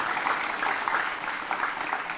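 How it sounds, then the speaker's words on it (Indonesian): An audience at a student council inauguration ceremony at a senior high school claps in a continuous, even stretch of applause, a dense and fairly loud patter without pauses. "Kita kasih tepuk tangan dulu untuk pengurus OSIS yang lama."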